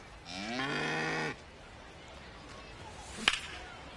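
A single cow moo in an MLB The Show 26 sponsor spot for a cow insurance company, a clear low drawn-out bellow lasting about a second, followed by quiet and a sharp whip crack.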